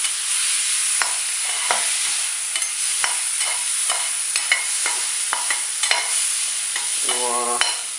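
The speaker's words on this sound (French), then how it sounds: "je vais déglacer avec du vin blanc" A pan of shrimp pasta deglazed with white wine sizzles and crackles steadily, with sharp pops and the scrape of a utensil stirring, close and alone without talk.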